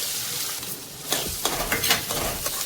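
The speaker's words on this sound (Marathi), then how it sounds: "कांद्यालाही छान गोल्डन ब्राऊन कलर येऊस्तोवर परतवून घ्यायचं आपल्याला तेलामध्ये" Finely chopped onion frying in hot oil for chicken keema, a continuous crackling sizzle with a few sharper spatula scrapes toward the end, close and fairly loud.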